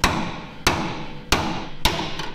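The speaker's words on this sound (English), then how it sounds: "When in doubt, beat it with a hammer." Hammer blows strike Ford Bronco II suspension parts being forced apart, four loud sharp metallic impacts spaced evenly about every 0.6 seconds with ringing between, close and alone.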